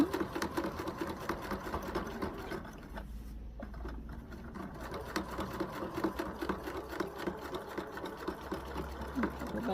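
A sewing machine stitches a utility kilt during a waist alteration, a rapid close whirring chatter that pauses briefly for a back stitch, then resumes steady and loud.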